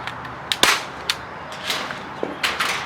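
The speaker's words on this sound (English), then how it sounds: "take my staple gun" A staple gun shoots staples while fabric is folded over a log mount, giving several sharp snapping clicks spaced irregularly and close by, with no talking.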